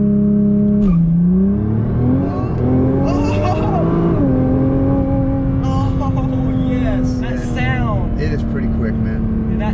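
Nissan GT-R launching hard in GTR mode, its engine roaring loud and close as the revs rise, drop at each upshift, then climb again, with voices inside the car talking over it.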